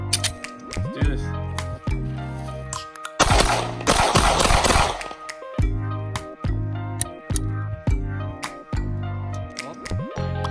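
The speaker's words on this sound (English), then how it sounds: "Dual wielding the Glock Taurus. Send 10 rounds downrange." Glock and Taurus pistols fired together in a dual-wielded string of about ten rounds outdoors, sharp loud repeated reports in irregular bursts with a denser cluster midway.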